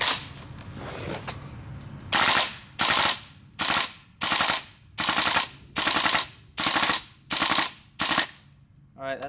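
A GHK M4 airsoft rifle fires full auto from a cold gas magazine, rapping out about nine sharp, loud bursts in a steady rhythm, each a tight rattle of shots separated by brief pauses, with a few scattered shots at the start.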